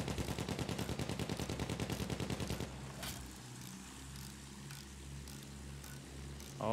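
Rapid automatic gunfire rattles in a loud, even burst for nearly three seconds in a Battlefield 1 match, then cuts out, leaving a low droning aircraft engine with scattered distant shots.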